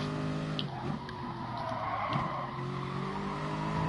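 Race car engine in Gran Turismo Sport braking hard into a corner during an online race, steady loud engine drone with tonal whine and faint tire noise throughout, no talking.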